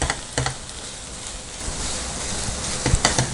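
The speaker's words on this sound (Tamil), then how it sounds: "இதே மாதிரி சிம்மில் வச்சுட்டு நல்லா மிக்ஸ் பண்ணிகிட்டே இருங்க" Bread and sugar stirred in a pan over low heat make a soft, continuous sizzle with a few quick clicking scrapes of the spoon against the pan.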